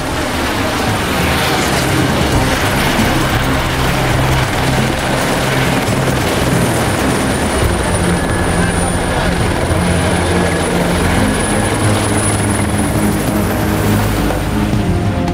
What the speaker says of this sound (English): The sound of the helicopter engine firing up breaks the silence.